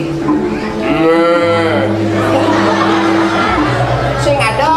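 A cow moos loudly in a long, drawn-out call during a staged Balinese drama gong performance, with people talking and a crowd murmuring around it.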